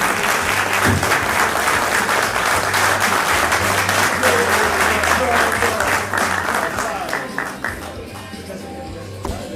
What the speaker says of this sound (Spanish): Fuerte el aplauso y el reconocimiento.